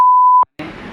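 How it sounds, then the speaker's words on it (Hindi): A single loud, steady censor beep holds a pure tone for under half a second, cuts out sharply, and then a short burst of broadband noise follows. "लेकिन आपको ये बीप मिलेगा।"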